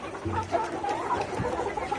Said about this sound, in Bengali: এই মুরগিগুলা যেরকম দেখতেছেন রেডি হয়ে গেছে